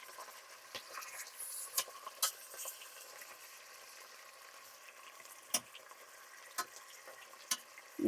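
Veal fries lightly in a pan for trahana with a soft, quiet sizzle, punctuated by occasional clicks and scrapes of stirring.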